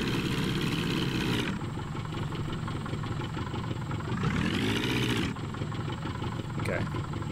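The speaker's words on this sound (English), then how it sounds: "Where's that engine cut off?" A car engine in the driving game My Summer Car runs steadily throughout, with a rising and falling surge as it revs near the middle, under continuous background sound.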